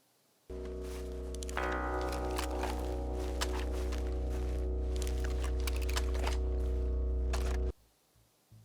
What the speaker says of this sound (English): Spin handgun into holster.